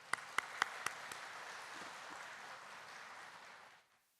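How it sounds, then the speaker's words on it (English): Conference attendees in Dubai applaud to welcome sponsoring organisations, with a few sharp nearby claps up front over a steady crowd clapping that fades out near the end. "Please help me to give them one round of applause to welcome them."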